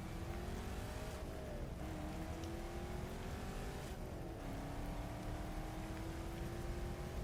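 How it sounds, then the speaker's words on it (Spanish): A powerful car engine roars steadily on an open road, loud and continuous, with the pitch dipping and climbing again as it shifts and accelerates. "El potente motor rugía de forma ensordecedora mientras devoraba kilómetro tras kilómetro de la solitaria carretera"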